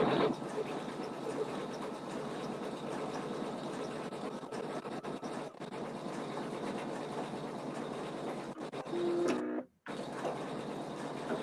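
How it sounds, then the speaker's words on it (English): An embroidery machine top-stitching a denim zipper pouch in the hoop, giving a steady, fast, faint mechanical chatter that runs continuously before cutting out abruptly near the end. "When it stitches the top stitch on top and then it goes around"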